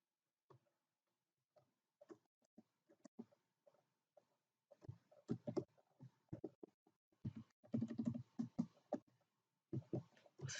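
Someone types code on a computer keyboard, quiet scattered key taps at first that build into denser bursts of clicking, close and soft with no voice.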